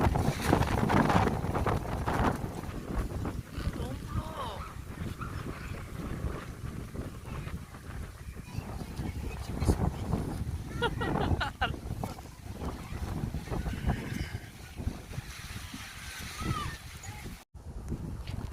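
Strong wind gusting across a campsite during rain, a steady roaring rush with flapping bursts throughout, close and loud, with people talking faintly underneath.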